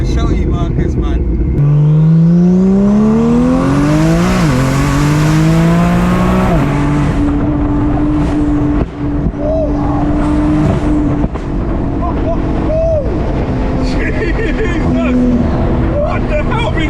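A 1500hp Porsche 911 Turbo S accelerates hard from inside the cabin, its engine note rising steeply through gears with shifts between them. Loud roaring continues throughout while people talk and exclaim over it.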